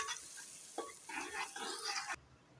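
Onions frying in hot oil for chicken biryani, a steady close sizzle broken by scraping stirs before it cuts off abruptly near the end.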